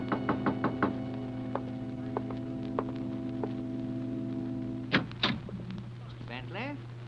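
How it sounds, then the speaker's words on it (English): Sharp knocks rap on a door in an old-time radio horror drama, a quick cluster of raps followed by a few more spaced ones over a steady mains hum, then a voice speaks briefly. "there was a knock on the door"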